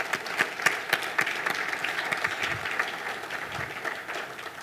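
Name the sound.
audience applause for keynote speakers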